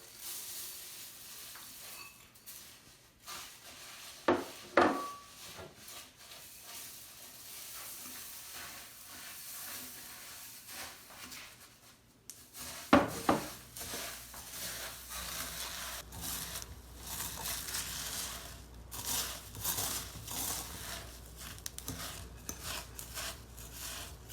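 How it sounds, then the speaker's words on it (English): Rice Krispies cereal stirred into a bowl of melted marshmallows, a soft crackling, rustling churn running steadily with a couple of sharper knocks of the spoon against the bowl, close and fairly quiet. "I'm going to dump 6 ounces of Rice Krispies in here and just kind of stir as I go"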